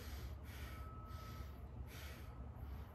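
A person takes short, shallow breaths through the chest, producing repeated airy bursts of breath noise, close to the mic over a steady background hum.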